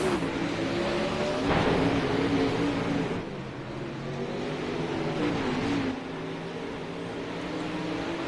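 Race cars battle on a racetrack, distant engines rising and falling in overlapping surges as cars pass, moderately loud and without any talk.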